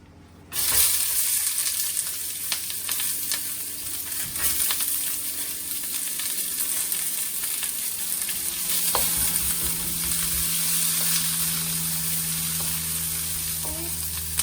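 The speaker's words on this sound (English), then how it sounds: "I'm just gonna add some oil, and then I'm gonna fry up the onions first" Onions fry in oil in a medium-hot wok, giving a steady close sizzle that runs throughout after a brief quiet start, with faint clicks and scrapes of stirring mixed in and no talking.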